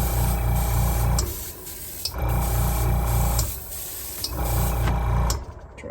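An airbrush sprays reefer white paint onto a Star Wars Death Star silo tower studio-scale model in three bursts of hissing spray, each over a rhythmic buzzing compressor, with quieter gaps between them.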